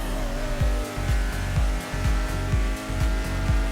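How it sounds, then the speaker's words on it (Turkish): A Honda S2000 in GTA 5 runs its engine with a rhythmic low chuffing, loud regular pulses a few times per second over a continuous engine drone and a faint tire squeal. No one speaks. "Ne oluyor bu araba niye çufluyor bunda turbo yok ki?"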